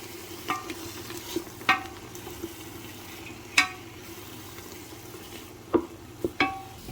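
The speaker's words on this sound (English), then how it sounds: "we have our vegetables are sauteing. They're sweating down, they're breaking down slowly." Diced vegetables sautéing in a pot for lentil stew, a faint low sizzle broken by several sharp scrapes and clinks of a spoon stirring, with no voices.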